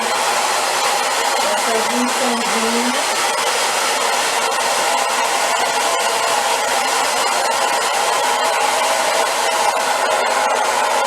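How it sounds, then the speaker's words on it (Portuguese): Hair dryer blowing steadily to heat an encaustic wax painting on canvas, a loud continuous broadband whoosh filling the whole stretch, with a brief voice audible early on under the airflow. "Eu vou aquecer agora com o secador de cabelo."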